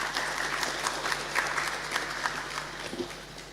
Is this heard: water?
no